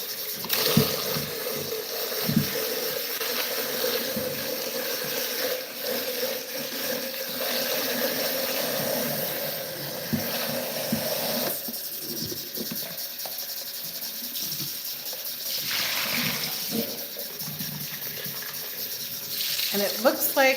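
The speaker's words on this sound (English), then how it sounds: "I'm just going to rinse this out." A kitchen sink tap runs steadily as a pot is rinsed out, a loud, continuous hiss of water with occasional clinks and knocks of cookware nearby.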